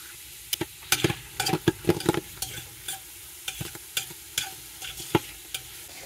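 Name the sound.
onions and mushrooms sautéing in butter with honey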